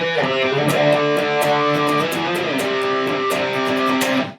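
A distorted electric guitar plays the bridge solo of a song, a dense, sustained riff of bending, ringing notes with steady picking, loud and close with no talking.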